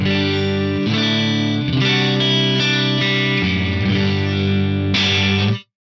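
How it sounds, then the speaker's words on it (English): Electric guitar chords played through an Axe-Fx III Brit JM45 amp model with slight breakup, light compression and a greenback cabinet impulse, sustained and steady, loud and close, ending abruptly. "I'm playing the Brit JM45 model with a bit of compression and a greenback IR."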